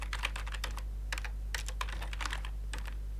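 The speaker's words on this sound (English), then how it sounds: "from here, let's type in setup.exe" Clicky keystrokes on a computer keyboard entering a command, coming in quick irregular clusters of taps over a steady low hum, close and clear.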